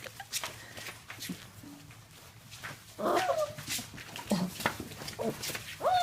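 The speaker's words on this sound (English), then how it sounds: "Playful puppies." Playful puppies whimper, yip and bark close by in short bursts, with soft movement and footsteps around them.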